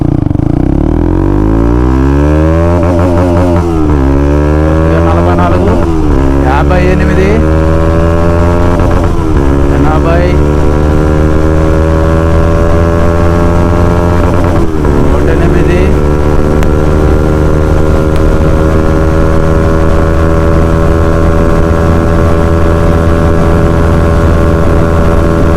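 A Bajaj NS 200 motorcycle fitted with an Akrapovic exhaust accelerates hard through its gears. The loud engine note climbs repeatedly, with brief dips at each shift, and rises to a sustained high-revving drone as it runs into the upper gears.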